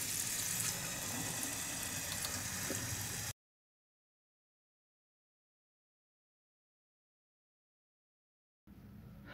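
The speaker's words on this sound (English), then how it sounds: "here is the watering going on" Water pours steadily into cactus pots, a continuous splashing trickle for a few seconds before cutting out, then briefly returning at the end.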